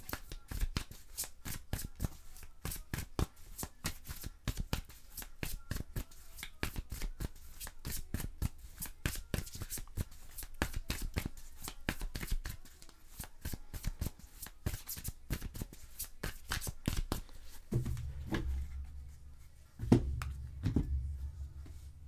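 Tarot cards being shuffled for a three-card reading: rapid, close crisp riffling and flicking runs steadily for about eighteen seconds, then gives way to a few softer taps and low thumps as the cards settle.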